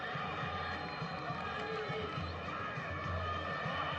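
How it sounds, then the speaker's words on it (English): Football crowd at Rashid Stadium during an AFC Champions League match between Shabab Al Ahli Dubai and Sharjah FC, a steady dense roar of thousands of fans, continuous and broad with a match commentator talking over it. "Let's listen to the crowd now. Tremendous atmosphere here at the Rashid Stadium."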